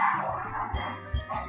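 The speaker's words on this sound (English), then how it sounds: "The dogs are going crazy upstairs for whatever reason." Dogs barking upstairs, heard from another room as a few short, muffled yips and woofs at a moderate distance.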